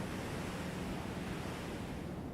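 Storm waves on the Oregon coast crash and wash onto an eroding beach in a constant broad roar with wind noise, steady and enveloping, with no voices.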